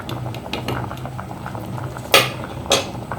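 Fish curry boiling in a pot, a soft, close bubbling with a rapid run of small pops and two sharper clinks of a utensil near the end.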